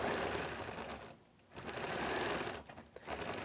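A sewing machine runs steadily while stitching a quilt, with continuous curves along small triangles near the blue fabric. The whir is close and even, pausing briefly twice before resuming, with no talking.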